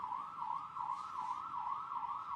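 An emergency vehicle siren wails in a steady rising-and-falling pattern, heard faintly through a live television broadcast from the roadside, continuing throughout without any talk over it.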